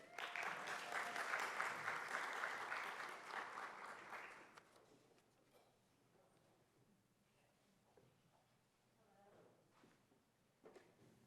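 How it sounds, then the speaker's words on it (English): An audience at a symposium applauds, a dense burst of clapping lasting about four seconds before fading into quiet room noise with scattered shuffling and faint voices. "we can give her a round of applause"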